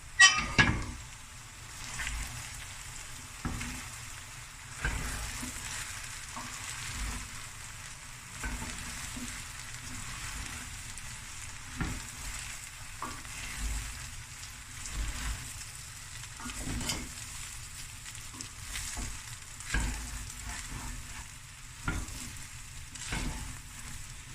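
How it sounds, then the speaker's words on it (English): Oxtail fried rice being stir-fried, a long stretch of soft continuous sizzling broken by frequent scraping and tossing strokes of the spatula, fairly quiet and without speech. "Now I'm going to stir fry this."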